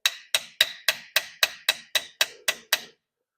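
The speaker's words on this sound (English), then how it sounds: "one of the things I like to do after I get it tightened the first time is I'll tap the bolt" Ten evenly spaced sharp metallic taps on a brake caliper hose bolt on a one-ton 4x4 truck, crisp and close, then silence.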